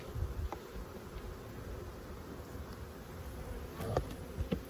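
Angry honey bees buzz in a dense, continuous swarm drone at moderate volume, with a few louder passes close by and no talking.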